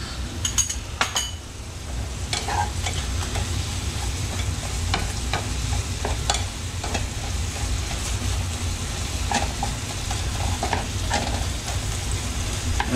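Flour being stirred into a pan of mushrooms that have released their juices, a continuous sizzle under scraping spoon strokes, close and steady with no voices.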